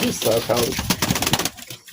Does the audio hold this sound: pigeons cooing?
yes